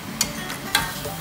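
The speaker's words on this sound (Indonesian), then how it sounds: "Kembali kita aduk agar bumbunya tercampur merata." A spatula scrapes twice through spice paste in a nonstick frying pan, two short close strokes over a faint sizzle.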